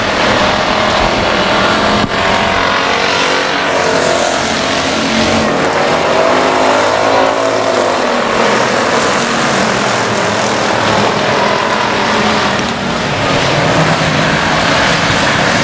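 Race cars roar around the I-37 Speedway oval, a loud, continuous engine drone with swelling and fading passes throughout.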